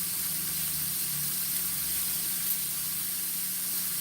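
Steaks searing in a pan seasoned only with salt and pepper, no butter, giving a steady, even hiss and sizzle with a faint low hum underneath, continuous and unbroken with no talking.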